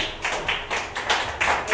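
A church congregation claps in rhythmic unison for Pastor Iván, with steady bursts of massed palms repeating about every third of a second at full, close volume.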